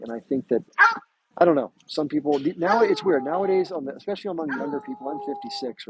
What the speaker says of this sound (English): That's my dog, by the way.